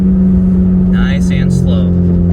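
Honda Civic Type R with a broken exhaust, engine droning loud and steady near idle with a slight rise in revs, continuous throughout and close, with brief higher noises over it.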